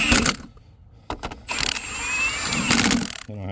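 Hand wrench snugging lug nuts on a Ford Bronco wheel during a flat tire change: several short bursts of ratcheting clicks, close and fairly loud, separated by brief pauses.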